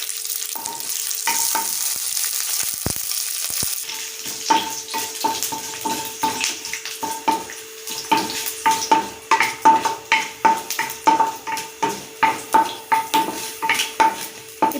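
Dried red chillies and curry leaves fry with mustard seeds and urad dal in hot oil, sizzling steadily while a spoon scrapes and stirs the pan in a quickening rhythm of sharp, close strokes, a tempering for mint chutney.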